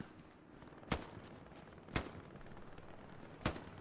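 Three sharp, isolated gunshots ring out about a second apart in the WWII shooter Hell Let Loose, each a loud broadband crack over a low, steady battlefield rumble.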